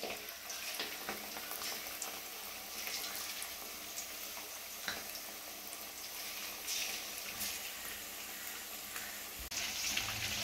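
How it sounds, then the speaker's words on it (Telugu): Chicken 65 pieces fry in hot oil in a pan with a constant dense crackling sizzle, broken by a few louder pops and a clunk near the end. "ఇలా వేపుకోవాలి ఫ్రెండ్స్. అంతా ఇలా వేపుకోవాలి."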